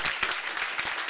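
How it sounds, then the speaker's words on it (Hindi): Audience clapping at a coaching institute event in Haryana, a brisk, dense burst of applause with slightly pulsing intensity, close and continuous for about a second. "एक बार जोरदार तालियां सुमित सर के लिए"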